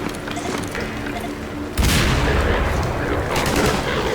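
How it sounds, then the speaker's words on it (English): In the video game Entropy: Zero 2, gunfire crackles before a sudden loud explosion from a grenade, followed by rumbling blasts and scattered shots. "At least they're smart enough to throw the grenades into the holes."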